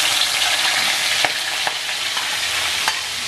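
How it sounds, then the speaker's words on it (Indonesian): Spice paste stir-fried in a pan for a traditional Pakpak dish, a steady close sizzle of frying with a few soft scraping stirs, no voices. "Pertama sekali kita tumislah bumbu."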